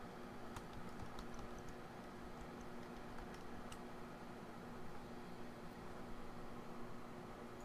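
Faint, scattered keystrokes tap on a computer keyboard in a quiet room over a low steady hum, with no talk.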